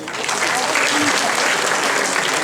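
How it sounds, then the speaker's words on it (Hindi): A school audience at a Hindi debate competition in Sonipat, Haryana, claps for a winner, a loud, full burst of hand clapping filling the whole moment, with voices faintly mixed in. "तालियां."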